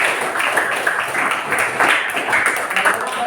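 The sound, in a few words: audience applause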